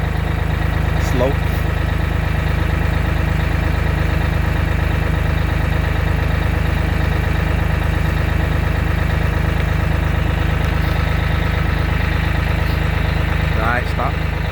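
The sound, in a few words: New Holland LX865 skid steer engine running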